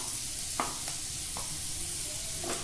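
Chopped garlic hitting a hot pan with onions, giving a steady soft sizzle with a few sharp stirring taps, close and moderately loud.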